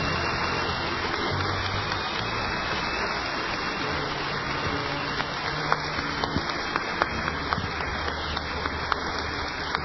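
A church congregation applauds during a Spanish-language sermon, dense steady clapping that runs loud and unbroken through the whole stretch like a wash of rain.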